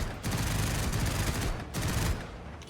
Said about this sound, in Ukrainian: Я зараз тут постріляю.